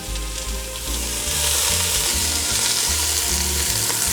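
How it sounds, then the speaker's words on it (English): Onions and carrot sweat in hot oil in a pan, giving a steady, close, crackling sizzle with faint stirring scrapes throughout and no voices. "we're going to throw in the onions and carrot and let those sweat"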